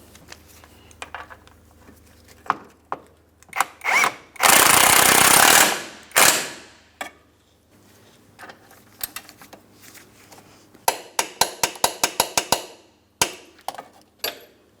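Rearward control arm hardware on a 2004-2008 Pontiac Grand Prix being tightened to torque, with a loud sustained burst of impact-style rattling, then a run of quick sharp metallic clicks and scattered clanks close by.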